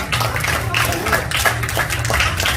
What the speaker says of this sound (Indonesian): Beri tepuk tangan yang luar biasa Bapak Ibu buat orang-orang yang sangat luar biasa